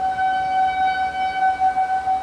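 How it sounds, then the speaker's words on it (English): Tornado warning sirens wail outdoors in Liberal, Kansas, a steady sustained tone held loud and unbroken, with wind or handling noise rumbling underneath and no speech. "the tornado sirens. I mean, there's a tornado warning today."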